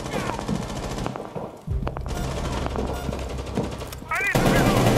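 Rapid automatic gunfire in the tactical shooter Rainbow Six Siege, loud dense bursts of shots with a short pause, then more sustained firing and heavy impacts, with brief game voice lines mixed in.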